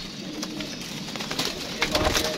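Pigeons in a loft coo softly through the moment, with bird calls and light rustling at close range, getting busier toward the end.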